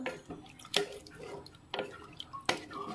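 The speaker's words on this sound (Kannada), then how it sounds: "ಒಂದೂವರೆ ಕಪ್ ರೈಸ್ ತಗೊಂಡ್ರೆ ಒಂದು ಎರಡೂವರೆ ಕಪ್ ನೀರನ್ನ ಹಾಕೋಬೇಕು ಹಾಕಿ ಮಿಕ್ಸ್ ಮಾಡ್ಕೋಬೇಕು" Water going into a pot of rice for vegetable biryani, heard as a steady trickle broken by several distinct splashy drips at irregular intervals, close by and fairly quiet.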